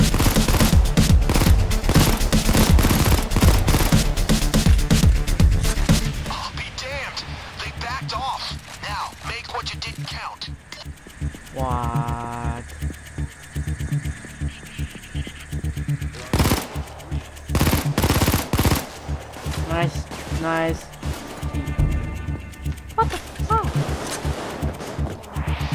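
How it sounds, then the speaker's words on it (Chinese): Rapid automatic weapon fire from rifles and submachine guns in the heist shooter game Payday 2, dense loud bursts at first, then scattered shots, clicks and game effects with a voice talking over them. "步枪是比较慢，然后冲锋枪是快到一个爆炸。"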